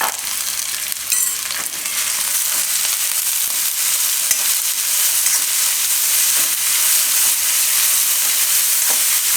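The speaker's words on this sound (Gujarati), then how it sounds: "થોડીક વાર કોબીને ફેરવી લેવું, આમાં વચ્ચે વચ્ચે હલાવતા રહેવું" Cabbage for a Gujarati moong dal and cabbage shaak sizzles and fries steadily in a pan while being stirred, a continuous close crackle with occasional scraping and no voices.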